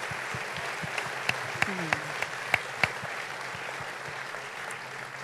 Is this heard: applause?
yes